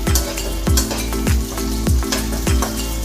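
Carrots stirred in a hot frying pan for a honey garlic chicken dish, with a steady loud sizzle and regular scraping strokes of the utensil about every half second.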